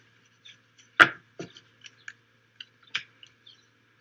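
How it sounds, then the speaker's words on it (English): Tarot cards being shuffled close by in a quiet room, heard as scattered dry taps, flicks and one sharper slap, irregular and isolated with no talk. "Oh my god, I love shuffling those cards."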